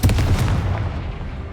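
A Confringo fire spell explodes in Hogwarts Legacy with a loud, deep blast that hits at once and then dies away over about a second.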